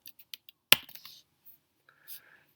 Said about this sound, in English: I'm going to type Republican definition.